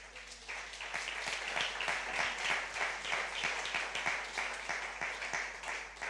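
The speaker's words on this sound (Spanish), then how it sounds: "Denle un aplauso a Dios" A church congregation at a Spanish-language service claps together, with sharp, fairly regular hand strikes standing out from a softer bed of applause, heard faintly and at a distance.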